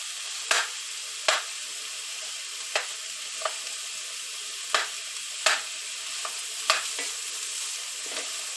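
Sliced mushrooms and other vegetables for potato soup sauté quietly in a pan, with a soft steady sizzle and about a dozen sharp clicks and taps of a utensil stirring at irregular intervals.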